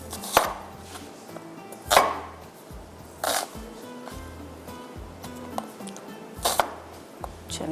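An onion is chopped with a knife on a board: a handful of sharp, separate thuds spaced a second or more apart, fairly quiet and close, with faint small clinks in between.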